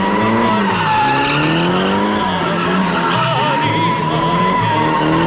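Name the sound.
Skyline GTR drag car spinning donuts, tyres skidding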